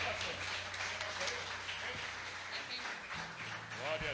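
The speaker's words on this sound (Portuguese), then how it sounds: "Dá uma linda salva de palmas." A congregation at a church service claps and applauds in a steady, dense patter, with voices mixed in throughout.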